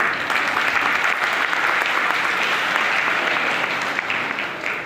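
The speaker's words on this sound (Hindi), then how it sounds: "तो आप अपने लिए जोरदार तालियां बजाइए" An audience at a women's empowerment gathering in Kanpur claps in loud, sustained applause that fills the space evenly for the whole stretch, with no talking.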